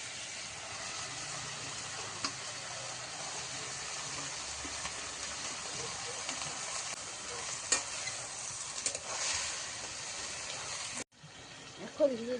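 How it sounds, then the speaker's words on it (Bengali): Jute leaves (pat shak) go into a pan with green chillies and a little water and are stirred, giving a steady close sizzle with scraping stirs throughout and a brief break near the end. "এখন দিয়ে দিব পাট শাকটা।"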